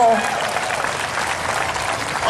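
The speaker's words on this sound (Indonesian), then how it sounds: "Mana tepuk tangannya?" Applause fills a church revival meeting in Sibolga, a steady, moderately loud wash of clapping from the audience after a brief voice at the start.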